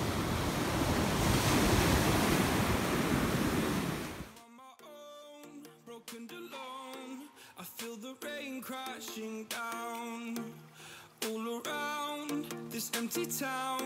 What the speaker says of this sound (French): puis là on est sur le bord de la plage